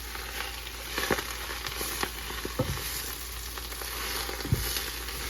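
Food frying in bacon grease in a pan: a steady, close sizzle with scattered pops and crackles and a few soft knocks of stirring, no voices.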